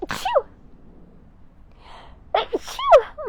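A sharp breathy sneeze bursts out at the start, followed after a pause by a quick gasp and a second sneezy exhale close to the microphone.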